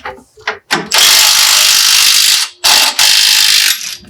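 A ratchet loosens a rear bolt during an IronMan 4x4 Stage 2 lift install on a 4th-generation Toyota 4Runner: a few quick clicks, then two long, loud, close runs of rapid ratcheting.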